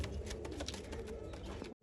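A large pigeon of a Kala Kola bloodline coos softly and close by in a short burst, with faint background hum and no voices.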